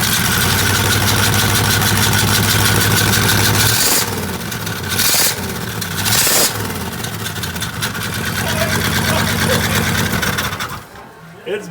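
A Ford F250 engine running with a suspected bad exhaust leak gives a loud, steady, rapid mechanical chatter. It shifts in tone partway through and drops off near the end.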